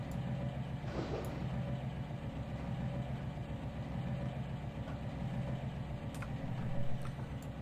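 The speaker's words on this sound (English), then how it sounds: "Thought I heard the engine cycle down all of a sudden." A low, steady diesel locomotive engine idles continuously in the video game Trainz 2019, rumbling evenly without change, with faint clicks on top.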